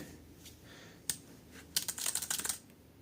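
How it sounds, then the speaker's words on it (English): Faint clicky keys on a cheap keyboard for a TABWEE T90 tablet, struck in a few single taps and then a quick cluster of keystrokes, close and quiet with no talking. "Check out the keyboard. So let's write a note here."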